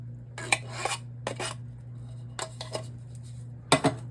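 Cans emptied into a pot of vegetable beef soup, several separate bursts of metallic clanks and scrapes spaced a second or so apart over a steady low hum.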